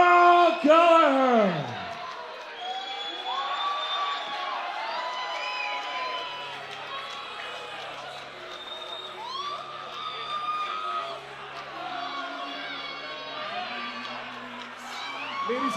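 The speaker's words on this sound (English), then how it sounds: "Please hold your applause for Carl Gallagher." Fight crowd at an amateur featherweight title bout cheering and whooping loudly after a TKO win, a dense roar of voices with shouts rising over it and continuing steadily.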